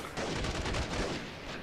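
Bots in the video game Freeman: Guerrilla Warfare fire their guns, a dense, muffled burst of continuous rapid shooting heard at a distance throughout a short moment.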